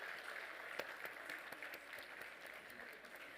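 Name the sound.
applause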